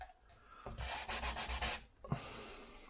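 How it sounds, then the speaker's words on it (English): A corner of a wooden board from an old workbench is sanded by hand for an RV door repair, giving a brief run of rapid rhythmic rasping strokes up close, then a knock and a short scrape. "A bit of a sand. I took some of the corners off"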